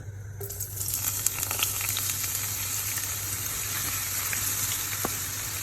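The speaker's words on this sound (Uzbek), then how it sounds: "Tovamizga yog'imizni quyib olamiz, qizitamiz, piyozimizni solib, tillarang bo'lguncha qovurib olamiz" Onions fry in heated oil in a pan for a somsa filling, giving a steady, close sizzling hiss that carries on evenly with no talking.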